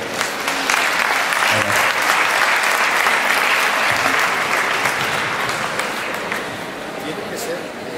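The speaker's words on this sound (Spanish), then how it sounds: "Nuevamente un fuerte aplauso para nuestro querido amigo" Audience applause at a criminal policy conference welcoming a speaker, a steady dense wash of clapping that lasts throughout and slowly tapers near the end.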